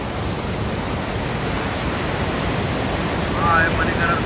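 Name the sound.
Parvati river rushing through Parvati Valley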